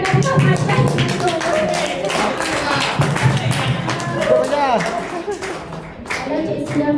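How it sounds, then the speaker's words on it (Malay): A classroom group in Batu Pahat claps for a presentation, many hands applauding in a continuous close burst while children's voices chatter over it. "Okey lah bagi satu tepukan macam macam itu."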